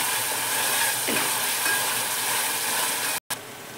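Onions fry in a pan with a continuous, even sizzle that stays moderately loud throughout, broken by a brief cut near the end.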